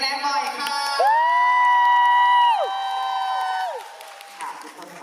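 A studio audience at a Thai morning TV show screaming and cheering, loud sustained high-pitched shrieks that hold and then trail off, with voices talking around them.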